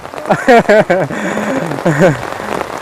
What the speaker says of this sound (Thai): ฝนตกแล้วนี่